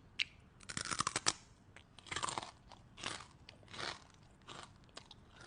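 Crunchy pork cracklings being chewed up close, a run of sharp brittle crunches in quick bursts with brief pauses between bites, loud and clear with no talking.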